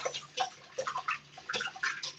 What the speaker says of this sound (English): Whisk the eggs.